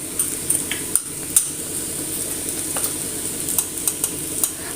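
Spices are stirred into a dish in a pan, a utensil scraping and clinking against the metal in irregular strokes over a faint sizzle, close by, with no talking.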